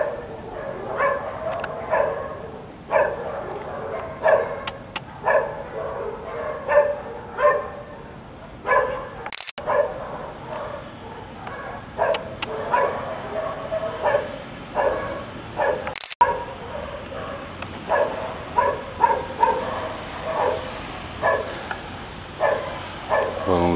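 Dogs bark repeatedly over a steady outdoor background, with yips and overlapping barks from more than one dog at a moderate distance, set off by a rising balloon in a neighbourhood in São Caetano do Sul, Brazil.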